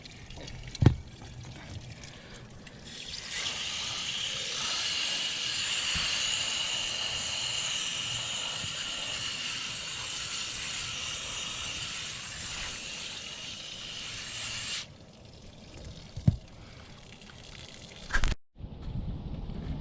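Water sprays and rinses through a very dirty swamp cooler full of mud and gunk, a loud, steady hissing rush lasting about twelve seconds before cutting off, with a few clunks around it.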